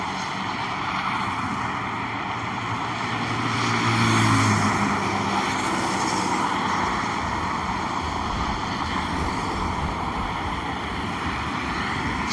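A DJI Mini 3 Pro drone flying overhead outdoors, a continuous buzzing propeller drone that swells slightly louder midway and then holds steady.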